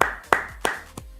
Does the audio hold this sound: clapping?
yes